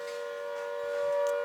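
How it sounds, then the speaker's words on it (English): Earthquake warning siren sounding in Shillong, Northeast India, a steady sustained wail held on one pitch, distant and moderately loud over faint ambient noise. "And now there's suddenly like an earthquake siren or something."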